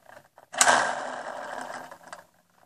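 A spin art machine whirs as it spins paint, a steady mechanical hum that starts abruptly, holds for about a second and a half, then fades out.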